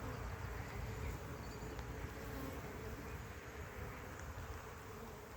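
A bee swarm buzzing inside a hive box, a steady low drone of many bees heard close and fairly quiet, with no talking.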